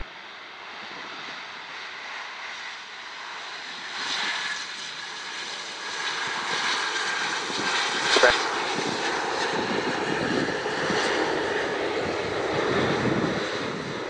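An Air Canada jet airliner arriving to land, its engines making a steady, loud, broadband roar that swells slightly as it nears, with a brief peak midway and no talk over it.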